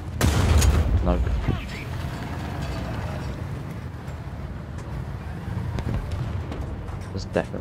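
Gunfire in a video game: a loud, sharp shot right at the start, followed by a thick wash of game noise, and a second shot near the end.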